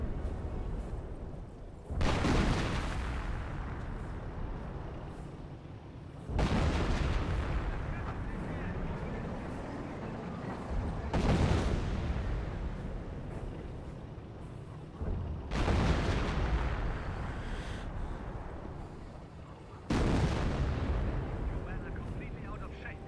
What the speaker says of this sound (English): Hummel's eyeing for some counter barrages onto the 25-pounder.